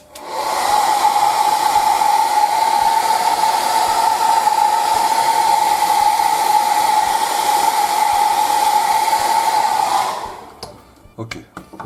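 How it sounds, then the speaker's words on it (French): A hair dryer, used on paint on a Faun L900 scale model, blows with a loud, steady whirring hum for about ten seconds, then switches off, leaving a few faint clicks. "je sors le sèche-cheveux."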